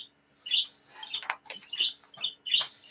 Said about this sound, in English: Quiet Birds.